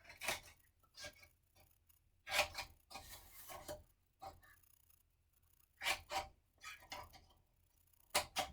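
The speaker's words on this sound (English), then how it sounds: "And then we're going to cut off the corners." Scissors snip off the corners of a chipboard cover for a mini album, giving several short, crisp cuts in separate bursts with quiet gaps between them, close and fairly soft.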